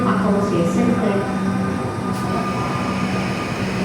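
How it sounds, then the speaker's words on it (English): A Melbourne Mernda Line train rumbles and whines as it pulls away from a platform, steady mechanical noise with a faint tonal hum and no clear speech. "Doors are locked, train is now departing"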